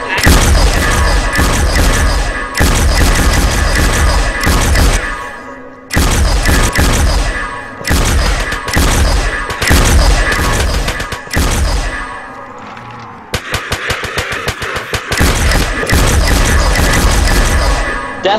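Ray Gun firing in Call of Duty Zombies recreated in Minecraft: loud, dense bursts of blasts and clanging impacts in several long volleys separated by short gaps, dominating throughout.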